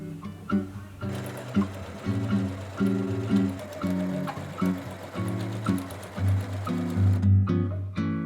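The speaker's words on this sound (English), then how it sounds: "Pin the placket to blouse, lining up notches and stitch together." A sewing machine stitches a placket onto a modern Victorian-style blouse, running in steady, close rhythmic bursts with brief pauses between seams and no talking.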